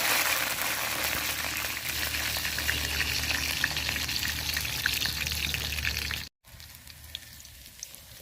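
Dried chilies, bay leaves and whole garlic cloves frying in hot oil for olive pickle, a steady loud sizzle and crackle running continuously, briefly cut by a short silence before the sizzle resumes more quietly.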